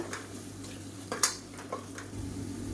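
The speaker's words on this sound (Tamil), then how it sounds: "இதையும் சேர்த்து நல்லா வதக்கி விட்டுக்கலாம் நல்லா எண்ணெய் புரிஞ்சு வரணும் பச்சை வாசனை போக" Ginger and garlic sauté in oil in a pan for a Tamil-style kulambu, a soft steady sizzle broken by occasional scrapes and clinks of a spoon against the pan, fairly quiet and close.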